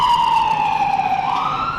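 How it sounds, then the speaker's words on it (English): A police car siren wails loud and close, its steady high tone sliding slowly downward and then swelling back up, with nobody speaking over it. "That police siren was perfectly timed and also perfectly shattered my eardrums"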